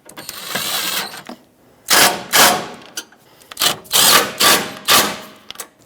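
Ratcheting of a wrench tightening the starter bolts on a 2012-2017 Honda Accord, repeated close bursts of metallic clicks with short pauses between strokes.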